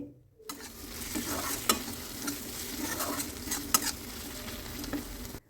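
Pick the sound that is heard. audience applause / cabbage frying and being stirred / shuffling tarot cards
cabbage frying and being stirred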